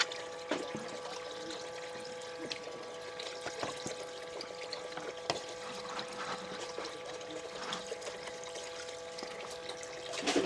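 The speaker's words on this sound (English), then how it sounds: "Kind of rinse the top here off." Water rinses over gold prospecting material in a bin, a steady low trickle and pour with occasional soft clinks, fairly quiet and continuous with no talking.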